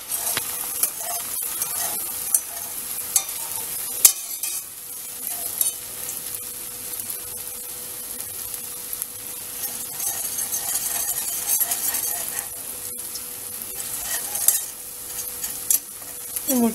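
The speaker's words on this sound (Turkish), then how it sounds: "Yumurtalarımı eklerken biraz şöyle pişmesini bekleyip öyle karıştıracağım." Eggs fry in a pan with roasted beans, a steady close sizzle running throughout while a utensil stirs and scrapes, occasional clicks against the pan.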